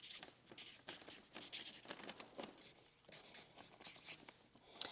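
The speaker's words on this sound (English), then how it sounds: "So I'll write that down." Handwritten notes in a woodshop, pen scratching quietly and continuously across paper in short strokes, close and faint.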